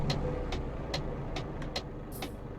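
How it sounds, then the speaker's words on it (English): A truck engine cranks over in Euro Truck Simulator 2, a regular series of short, evenly spaced mechanical bursts over a low engine rumble, with a brief hiss near the end. "As soon as I crank up my engine again."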